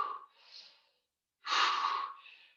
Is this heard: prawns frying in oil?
no